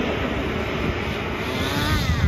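HSP 1:10 nitro on-road touring car with its small engine running, a loud, continuous high buzzing whine with no breaks, close by.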